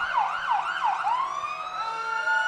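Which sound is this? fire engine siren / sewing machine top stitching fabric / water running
fire engine siren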